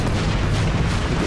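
Explosions in the Xbox 360 video game Crackdown roar as a dense, continuous, loud rumble of overlapping blasts, with no talking.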